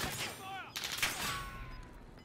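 A quick burst of gunfire in the video game Warzone, with sharp repeated cracks, mixed with chirpy electronic game sounds and faint voices underneath.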